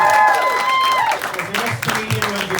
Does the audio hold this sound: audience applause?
yes